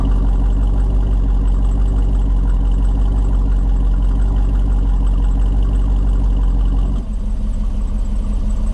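A 2023 Jeep Wrangler Rubicon 392 idles with its exhaust in quiet mode, giving a steady, loud, deep engine rumble throughout. Near the end the rumble drops to a softer, lower level and then holds steady.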